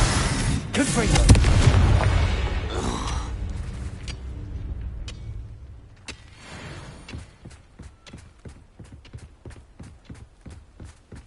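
Explosive Confringo spell blasts boom during combat in the video game Hogwarts Legacy, with loud rumbling impacts early on, then a rapid series of sharp clattering hits, while voices speak in the mix.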